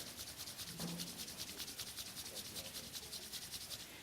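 An audience rubs their hands together hard, a dense, even swishing friction from many people at once that carries on without break.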